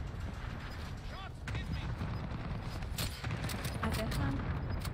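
Bursts of gunfire from the Call of Duty Warzone video game rattle in a dense, continuous mix with other game effects, while players talk over it.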